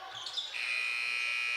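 A basketball game buzzer sounds at the end of the first quarter in a high school gym, a sustained steady electronic tone rising over crowd noise and running to the end.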